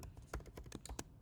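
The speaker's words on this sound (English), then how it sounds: "So I'm going to go ahead and type in h of t" Someone types quickly on a computer keyboard, entering a function into the Desmos online calculator. A brief run of soft, close keystrokes plays in a quiet setting.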